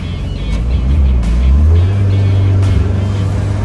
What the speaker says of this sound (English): if you're wondering why the gears are so loud, third and fourth gear is straight cut gears